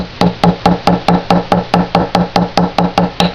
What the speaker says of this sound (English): Knock that right down into place